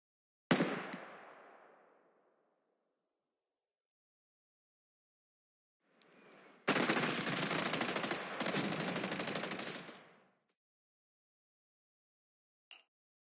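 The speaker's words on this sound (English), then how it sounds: "Gunfire? This pattern. Suppressive marching fire." A single loud shot rings out and fades, then after a pause a sustained burst of rapid automatic gunfire (suppressive marching fire in the game Zenless Zone Zero) rattles for several seconds before a final faint click.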